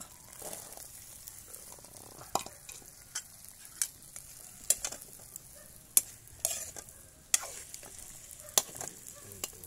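Hantak sizzles softly as it is sautéed in a pan, with a quiet continuous frying hiss broken by sharp intermittent scrapes and clinks of stirring.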